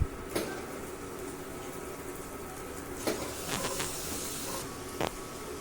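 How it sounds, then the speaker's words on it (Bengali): Soft sizzling hiss of a pan on the stove as braised country chicken pieces are added one by one to a spice paste with green chillies, with a few faint clinks and thuds over a steady background. "কষানো মাংসগুলো আমি দিয়ে দেবো একে একে"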